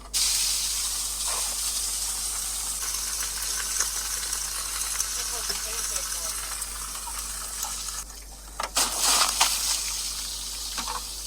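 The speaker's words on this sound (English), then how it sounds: "the water was going in that hole, going down through the valve cover and hitting the bottom of the oil pan. You can hear it sizzling" Water hissing and sizzling steadily as it hits the hot bottom of a Ford engine's oil pan, a constant close steam-like hiss with a few brief louder gushes near the end.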